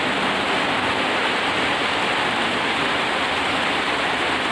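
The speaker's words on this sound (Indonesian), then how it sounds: "hujan bos." Heavy rain pours steadily, forming a dense, loud, continuous hiss with no breaks and no voices.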